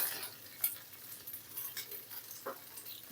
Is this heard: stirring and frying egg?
yes